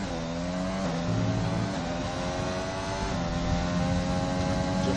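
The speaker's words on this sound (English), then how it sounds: "Listening to the engine revs on board with Flanders at the moment." An onboard race car engine revs hard through the gears, with rising tones, brief dips at the shifts around one and three seconds, then climbing again, loud and close throughout.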